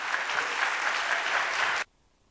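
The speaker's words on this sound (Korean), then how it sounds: "나오실 때 뜨거운 박수로 환영해 주시기 바랍니다." Warm audience applause greets a guest speaker, a church elder, walking up at a young adults' Sunday worship service. The clapping is dense and steady for nearly two seconds, then cuts off abruptly into silence.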